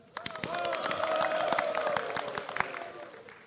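An audience at a leadership training session claps in a short demonstration burst mixed with shouts and whoops. It swells quickly and fades within a few seconds.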